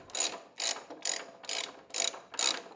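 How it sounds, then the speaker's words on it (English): Ratchet on a wobble extension with a 13mm socket, loosening a hood latch nut on a Jeep JK, clicks in six evenly spaced bursts, close and crisp, with no talking. "I attached my ratchet to a wobble extension."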